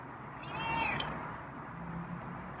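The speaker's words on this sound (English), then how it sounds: "that's a nice raspy meow" A feral cat gives a single raspy, drawn-out meow, close and clear, followed by quieter background rustling.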